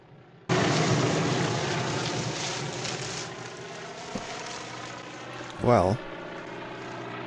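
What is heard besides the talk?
propeller airplane flying in the film North by Northwest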